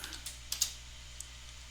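Quiet keystrokes on a computer keyboard while a Linux install command is typed, a few soft scattered clicks over a low hum.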